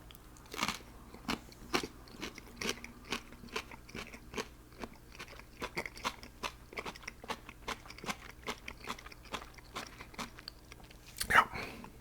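Close-up crunching as raw celery sticks dipped in a creamy dip are bitten and chewed, with a steady run of sharp, crisp bites and smaller crackles at an even rhythm, loud and close with no talk.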